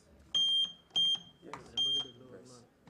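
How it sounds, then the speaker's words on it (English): Quiz competition buzzers tested one after another, three short, piercing electronic beeps in steady succession, with faint voices and room noise between them. "can we check our buzzers?"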